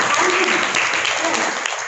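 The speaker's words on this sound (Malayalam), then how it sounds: "പിന്നെ നിങ്ങൾക്ക് നന്ദി രേഖപ്പെടുത്തുന്ന കൈയടിക്കാം കേട്ടോ" A group of students at a World AIDS Day observance at a teacher education college claps together, a sustained, fairly loud patter of many hands that holds steady for the whole stretch.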